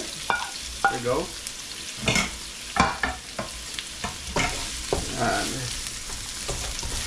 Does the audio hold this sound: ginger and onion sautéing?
yes